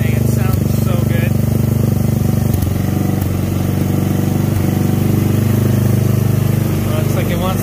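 Go-kart engine fitted with a Pro Circuit muffler idling loudly and steadily up close, a dense throbbing drone with small fluctuations and no pauses, a voice talking over it.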